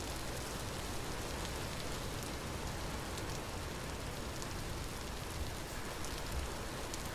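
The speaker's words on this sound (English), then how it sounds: "Because it's raining" Steady, even rainfall in the game Vintage Story, a dense continuous hiss of drops on surfaces that stays constant throughout, moderately quiet with no talking.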